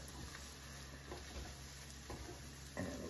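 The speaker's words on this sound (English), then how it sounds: "Stir that around." Ham, peas and scallions stirred around in a pan, a faint steady sizzle with a few soft scraping pushes of a utensil, quiet and close.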